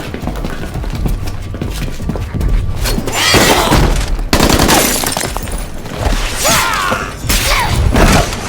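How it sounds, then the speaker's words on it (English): Chaotic movie action scene with bursts of gunfire, crashes and shattering impacts, loud and dense throughout, with no clear speech. "Stop shooting!"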